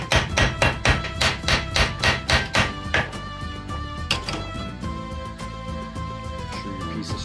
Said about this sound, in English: Be sure you have a hammer and something to lay it on and hammer it flat basically.